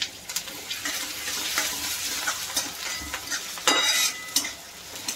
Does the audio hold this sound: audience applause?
no